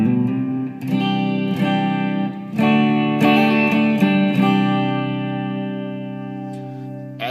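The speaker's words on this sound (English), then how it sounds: "this acts much like a spring reverb on your board or on your head, or amp combo" A guitar plays sustained chords and single notes through a Zcat Polyoctaver pedal's spring reverb, each strike blooming and decaying into a long wet tail; no voices.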